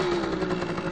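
A Yamaha DT50 MX two-stroke motorcycle engine runs steadily up close, a constant buzzing drone with a strong low hum and rattly texture throughout.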